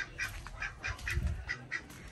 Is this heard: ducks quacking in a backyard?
yes